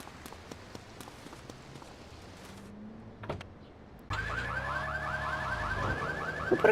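A car alarm in GTA III Definitive Edition suddenly starts partway through, a loud, steady, repeating electronic wail over quiet game ambience.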